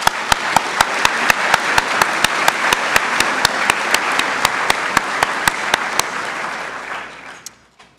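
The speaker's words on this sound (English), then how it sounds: "Let's have a round of applause" Audience applause fills a university nursing white coat ceremony, a dense steady wash of many hands clapping with sharp periodic louder claps standing out, holding for about seven seconds before fading out near the end.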